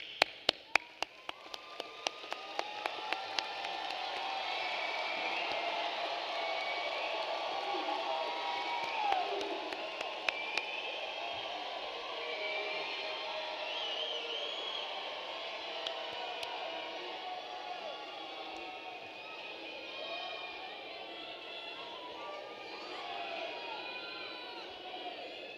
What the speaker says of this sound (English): graduates, stand up and give these people a round of applause